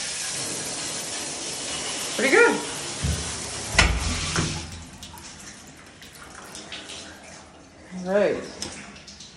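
Water runs from a bathroom faucet or shower in a two-bedroom apartment to show the pressure, a loud, steady hiss that fades after a few seconds, while someone speaks briefly and a dog barks twice.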